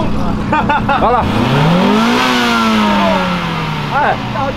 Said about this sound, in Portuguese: Dá uma acelerada pra mostrar o ronco.